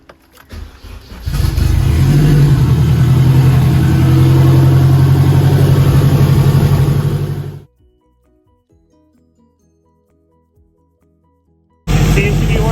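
An Acura car engine, just fitted with a new alternator, starts and idles loudly up close with a steady rumble for about six seconds, then cuts off into near silence before another burst of sound.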